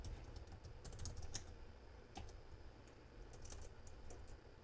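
Rapid, uneven keystrokes on a computer keyboard while a cursor command is entered for a MySQL database, with soft clicks clustered in short bursts over a low background hum.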